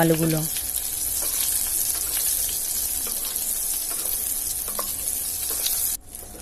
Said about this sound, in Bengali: সিদ্ধ করে রাখা আলুগুলো ভেজে নেব।